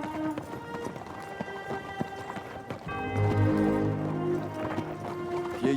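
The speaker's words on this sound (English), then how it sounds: "Get me a horse as fierce as is possible." A fierce horse clip-clops in steady rhythmic hoofbeats, clear and close at first, then muffled under louder music in the later half.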